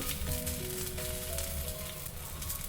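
Ghee hits a hot pan and sizzles steadily throughout, a dense crackling fry with faint tonal hums from the kitchen underneath, no voices.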